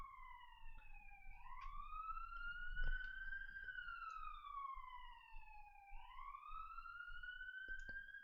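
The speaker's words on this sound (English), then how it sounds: "Oh, sirens out there." A police siren wails outside, rising and falling in slow sweeping cycles, fairly distant and faint, with occasional soft knocks nearby.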